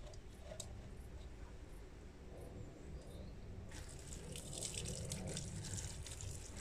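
Water sprinkles onto a vegetable garden through mosquito netting, a faint steady patter and splash that grows denser and louder in the second half.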